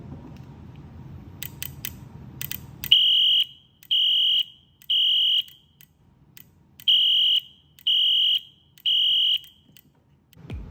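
After a stretch of low mechanical noise, a Wheelock Eluxa fire alarm beeps piercingly in a temporal-4 pattern: four loud tones, a pause, then four more.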